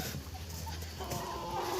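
Chickens, including roosters and hens, cluck softly in the distance over a steady, noisy outdoor background, with faint bird calls scattered through it.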